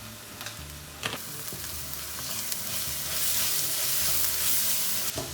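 Ground spices with ginger and garlic sizzle steadily in a hot pan with oil, a dense, continuous frying hiss, close and fairly loud, with a few sharp pops and stirring clicks, growing slightly louder toward the end.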